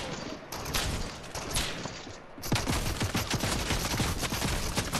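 Heavy AK rifle fire in a desert-map shooter game, sustained bursts of rapid gunshots with a louder, denser stretch in the second half, mixed with game sound.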